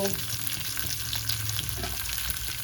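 Chopped tomatoes sizzle in a hot pan with a dense, continuous crackling hiss, close and even, with faint low rumble underneath and no talk.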